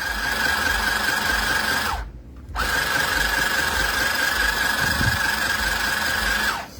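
A sewing machine runs with a steady, loud, close whir, stops briefly for about half a second, and then starts up again, holding a constant hum before it winds down at the end. No voices are heard.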